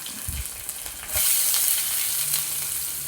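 Ginger, garlic and onion frying with cloves and whole spices in a pan for chickpea curry, a moderate sizzle that jumps into a loud, close hiss about halfway through, with no voices.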